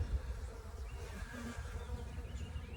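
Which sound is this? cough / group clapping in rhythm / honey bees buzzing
honey bees buzzing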